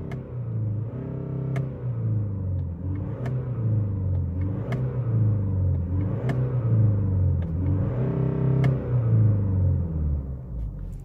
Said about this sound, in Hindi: थोड़ा रेव करके सुनाता हूँ कि इस तरह का ये स्पोर्टी साउंड ये इंजन जो है वो देता है आपको